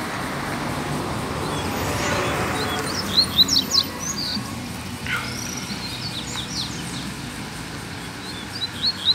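A wild black double-collared seedeater gives clusters of quick, high chirps in a busy spot, coming in short bursts over a constant low traffic rumble.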